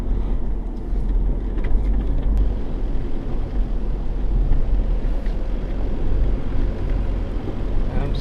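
A modified Isuzu MU-X 4WD with a rear e-locker crawls uphill in low-range first gear through Imbil State Forest, its deep engine rumble steady and low, with wind buffeting the microphone.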